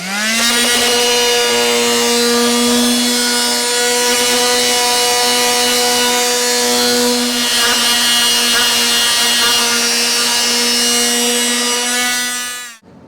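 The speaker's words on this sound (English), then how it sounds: "And then it was time to do the regular sanding." A power sander on wood pieces whines loudly and steadily for the whole stretch, a constant motor drone with no pauses and no talking.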